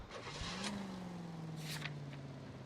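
A car driven in the video game L.A. Noire, its engine a faint, low, steady hum that rises slightly, then holds, with soft road noise and a few brief clicks.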